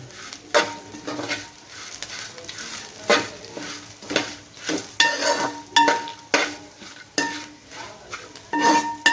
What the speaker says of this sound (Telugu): ఉల్లిపాయలు బాగా ఎరగ ఏగాలి అందుకే ముందే వేసాను వాటితో పాటు ఇవి కూడా ఎగుతాయిలే కొంచెం సేపు అని